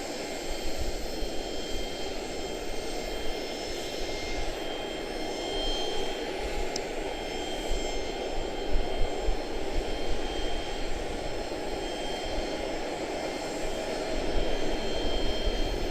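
Jet aircraft operating at Charlotte-Douglas International Airport produce a steady, broad engine roar heard from some distance, holding at a constant moderate level throughout with no voices.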